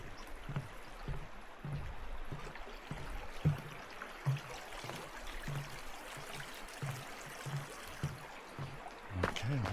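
Water running along a creek on a Montana forest trail, a soft continuous trickle and rush with faint irregular splashes, fairly quiet and steady throughout.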